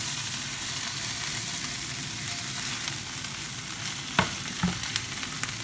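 Onions fry in oil in a pan, giving a steady, close sizzle that runs throughout, with a few brief clicks or knocks near the end and no talking.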